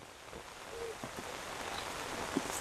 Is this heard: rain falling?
yes